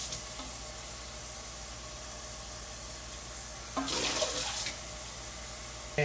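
Water runs from a tap into a pot for cooking rice in a home kitchen, a steady hiss that swells briefly into a louder splashing pour before easing back.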